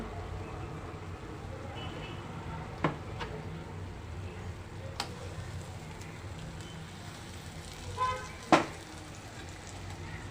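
Finely ground tomato paste sizzling in hot oil in a pan: a continuous, moderate hiss and crackle, with a couple of sharp clanks from a utensil against the pan.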